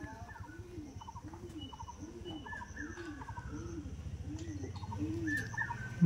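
Several pigeons coo in a steady repeating rhythm, close and clear, with faint higher chirps over them; the birds are aggressive fancy pigeons kept by a village pigeon keeper in Basirhat.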